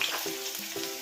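Tempering seeds and crushed small onions fry in two spoons of hot oil for a tomato pickle, giving a brief, steady sizzling hiss with no speech.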